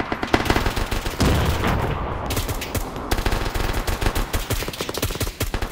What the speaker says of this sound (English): Jerry's on a freaking minigun just shooting the shit out of things on that thing